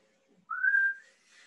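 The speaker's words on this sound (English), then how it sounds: "try to whistle or talk or make sound while you're breathing in and out" A person whistles while breathing in and out, a brief soft breathy sound followed by one clear sustained whistled tone, then a fainter whistle starting again, all close and quiet.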